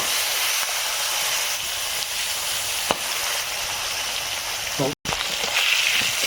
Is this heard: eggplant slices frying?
yes